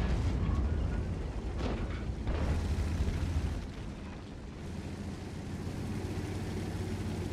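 An explosion in the tank video game World of Tanks, a heavy low rumbling blast that rolls on for a few seconds, then gives way to a steady engine drone beneath.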